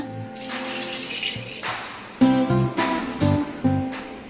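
Water from a glass is poured into a cooking pot of beans, first as a rushing stream, then in several short splashing pours with hollow ringing tones, close and fairly loud with no talking.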